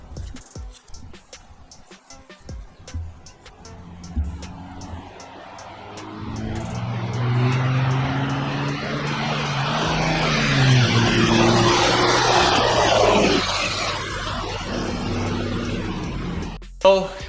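Chevrolet Silverado pickup running long tube headers with the exhaust off, its engine rumbling low then revving up into a loud, sustained roar before settling back down, heard up close.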